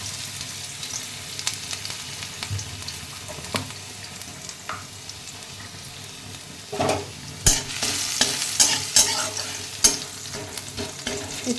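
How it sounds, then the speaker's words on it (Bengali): Crushed garlic and nigella seeds fry in a wok for a red amaranth leaf dish, with a low steady sizzle and scattered scraping stirs that grow louder and more frequent in the second half, with no talk. "কিছু রসুন থেতো করে রেখেছি, সেটা দিয়ে দেবো।"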